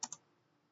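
Two quick keystrokes on a computer keyboard while entering a Linux networking command, faint and close, with quiet room tone after.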